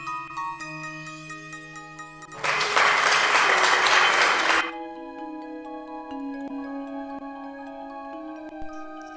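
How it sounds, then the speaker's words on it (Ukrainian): Small children clapping their hands during a preschool speech lesson, a dense burst of applause lasting about two seconds with a steady tonal music bed playing before and after. "Дуже раді всі малята, плескають в долонечки"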